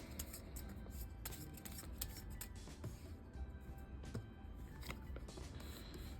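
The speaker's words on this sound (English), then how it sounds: "Okay, we shuffle again." A deck of cards, cut from a set that includes a knives suit, is shuffled again for a card-laying reading, making a fast run of crisp riffling and flicking taps over a steady low background hum, close and with no talking.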